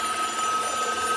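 A telephone rings on a line through a satellite news-link system, a steady electronic tone sounding continuously and fairly loud over a background hiss.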